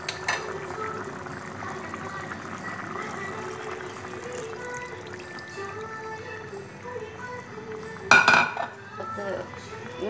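Spiced first-extract coconut milk poured into a simmering mutton stew, a soft continuous liquid pour with faint bubbling, then a brief louder clatter of a utensil against the pot near the end.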